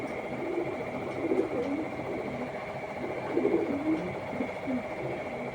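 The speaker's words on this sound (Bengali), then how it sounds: "এটা পাকিস্তানি কালদম কবুতর।" Pakistani Kaldom pigeon, a long slender male, gives soft repeated coos in two low bursts, close by, over a steady background hum.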